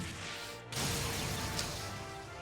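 Armor Breaker attack hitting an enemy in Trails of Cold Steel, a single sharp crashing impact followed by a brief rumbling tail and a lighter second hit over steady battle ambience.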